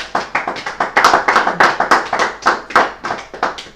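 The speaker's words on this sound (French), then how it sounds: "Acclamons pour la gloire de Dieu." A congregation at a baptism service claps along in a quick, fairly regular rhythm, and the close, lively hand claps carry on steadily with no speech.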